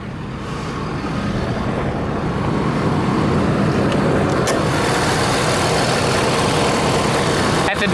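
A 2012 Ford F350 Super Duty dually with a 6.7 liter Powerstroke turbo diesel V8 idles close by under the open hood, a loud steady low rumble with a clack near the end.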